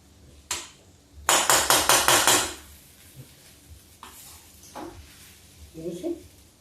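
Methi rice pulao stirred slowly in a pot: one sharp clank, then a quick run of about six rhythmic metallic scrapes and knocks, followed by scattered softer taps and a brief faint voice.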